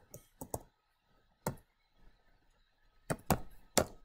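Typing on a computer keyboard: short bursts of sharp key clicks, a quick cluster of three, a single tap, then a final flurry of several keystrokes, close and clear with no talk.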